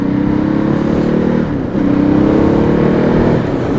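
A motorcycle engine idles steadily after start-up, a loud continuous low rumble with a brief dip in the middle before settling back to an even running note, with no talk.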